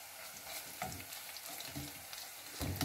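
Tomato paste frying in oil with golden browned onions, a soft close sizzle with light stirring scrapes, fairly quiet throughout with a louder clatter at the end, no voices.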